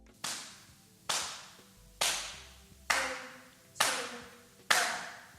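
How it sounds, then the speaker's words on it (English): Six sharp, evenly spaced hand claps, about one per second, mark a steady pulse, each ringing briefly in a reverberant room with no voices. "You should establish the pulse by clapping and then counting them in."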